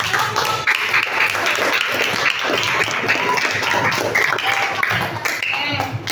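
Classroom students break into enthusiastic applause, a dense, continuous wash of clapping lasting several seconds with voices mingling underneath.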